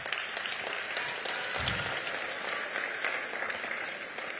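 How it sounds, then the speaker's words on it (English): Parents and audience at a school district spring concert applaud, a broad, even wash of clapping from a sizeable crowd, steady and moderately loud for several seconds with a brief low thump in the middle. "Give yourselves an applause for that"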